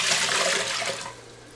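Water is poured into an Instant Pot pressure cooker pot, a steady splashing stream heard up close that tapers off after about a second.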